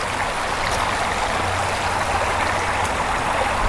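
Steady rushing of a stream in Penitencia Creek park, with continuous broadband water flow, close and fairly loud, and no voices.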